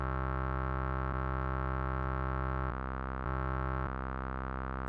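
Ableton Analog synth oscillator 2, set up to emulate a Korg MS-20, holds a steady buzzy tone with a few brief clicks where the timbre shifts slightly, fairly quiet and alone without talk.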